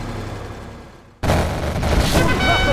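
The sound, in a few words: quad cannon firing in video game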